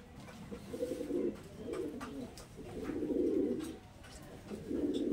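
A pair of Jamini-colored Panja pigeons, one male and one female, coo in several rolling, throaty bursts close by. Soft background noise fills the pauses between coos.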